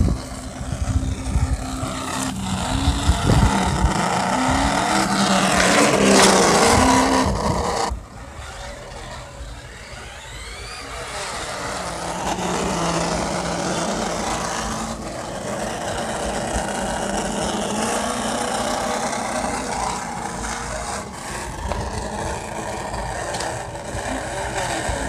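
A Traxxas Slash RC car driving, a whining electric motor with bursts of revving and rough rolling noise, louder at first and then a steadier mid-level drone.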